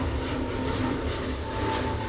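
A KLM airliner departs Manchester Airport for Amsterdam with a steady, dense engine roar holding at an even level through a short stretch, with no one speaking.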